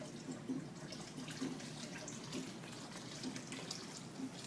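Lanolin wash poured into water in a plastic tub for wool care makes a soft, steady trickle and gurgle, faint and continuous with no talking.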